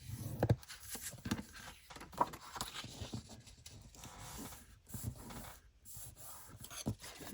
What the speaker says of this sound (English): I'm going to score at 1/2 inch.